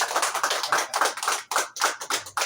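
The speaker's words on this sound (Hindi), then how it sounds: "तो तालियां" An audience applauds at an inauguration ceremony for a cold chain facility in Itanagar, with brisk, uneven clapping that comes in loud rolling bursts and briefly dips before picking up again.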